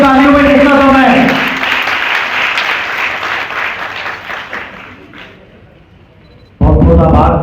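An audience claps loudly in welcome for a guru at a Ramayana convention, a dense burst of applause that fades over several seconds, with a voice speaking at the start and again at the end.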